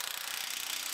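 An impact wrench hammers bolts tight on the front end of a 2019 GMC Sierra Denali 2500HD pickup, a loud, steady, rapid rattle that runs without pause through the short burst, with no voices.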